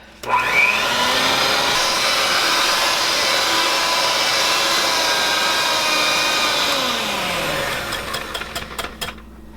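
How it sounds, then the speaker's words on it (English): An electric mixer blending chocolate cream pie filling runs with a loud steady motor whine that starts abruptly, holds for several seconds and then winds down with rattling at the end, no talk. "we're going to take your mixer and we're going to blend this right up"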